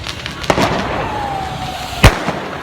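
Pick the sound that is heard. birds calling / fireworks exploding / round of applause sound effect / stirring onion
fireworks exploding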